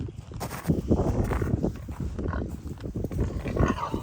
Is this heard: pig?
yes